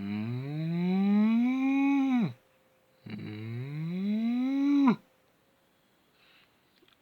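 A voice imitates a Normandy cow, giving two long, loud, low moos of about two seconds each, separated by a brief pause and close to the listener.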